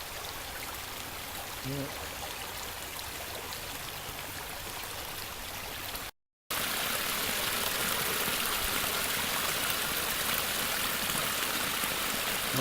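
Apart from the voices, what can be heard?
overflow water running out of a small pond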